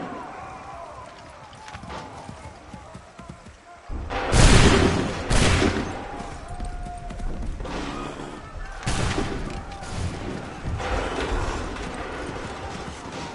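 A musket volley in Assassin's Creed III Remastered: a loud burst of overlapping shots erupts after a quieter stretch, followed by further crackling gunfire, rumbling battle noise and shouted orders in the background.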